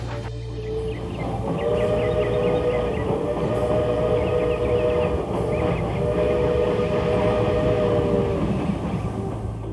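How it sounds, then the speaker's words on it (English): A steam locomotive on the Tweetsie railroad sounds two long, shrill, steady whistle blasts over a rumbling train at moderate distance. "the high-pitched shrill whistles of the locomotives"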